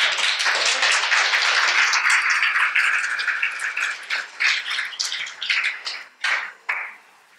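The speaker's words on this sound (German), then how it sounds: "Ein Applaus für die Gabi am Anfang" A symposium audience applauds the speaker Gabi as her talk begins, a full burst of clapping that thins out into scattered separate claps before stopping.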